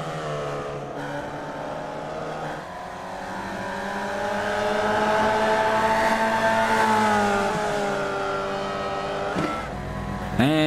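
Race car engine in the sim racing game iRacing, driven hard into the final corner: a loud, sustained, close engine drone whose pitch climbs and sways through the gears, with no talking.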